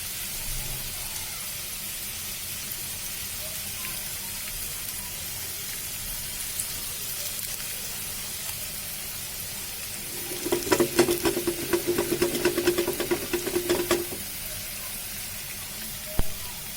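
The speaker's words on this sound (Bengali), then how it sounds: "সুন্দর মতো ভাজতে থাকি।" Food frying in a small wok with only a little oil, a steady soft sizzling hiss throughout, joined partway by a burst of louder crackling and scraping from stirring before settling again.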